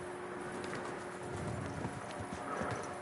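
Horse hooves clip-clop steadily in a video game, a continuous trotting rhythm over an ambient outdoor bed with faint bird-like calls.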